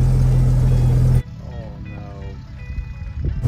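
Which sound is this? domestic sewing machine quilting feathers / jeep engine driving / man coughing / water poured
jeep engine driving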